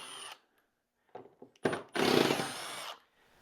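A power driver whirs through short bursts as screws are backed out of a solid wooden footstool, ending in one sustained, louder spin of about a second before stopping.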